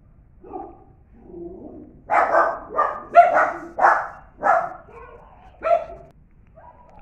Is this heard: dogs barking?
yes